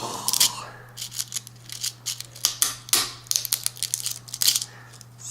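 Scissors or cutters slicing through a hard, tough rattlesnake rattle, a series of sharp, close crunching snips and cracks in irregular bursts over a steady low hum.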